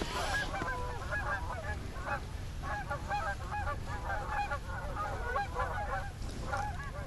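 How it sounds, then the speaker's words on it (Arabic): A flock of geese honks continuously in a dense, overlapping chorus. The calls sound moderately near and keep going over a steady outdoor background. "هاي مجموعة وز جاية"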